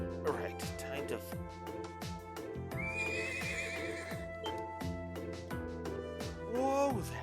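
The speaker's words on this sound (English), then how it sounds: "This horse recently arrived right from the North Highlands." A horse neighs loudly in the video game Trails of Cold Steel, its whinny rising over steady clip-clop hoofbeats and game music, with a second whinny near the end.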